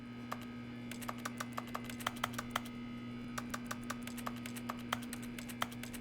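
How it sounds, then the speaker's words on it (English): Keyboard typing clicks from the video game The Stanley Parable tap out in an irregular rhythm, fairly close and crisp, over a steady low electrical hum, with no talking. "Why does it make keyboard sounds when I left click?"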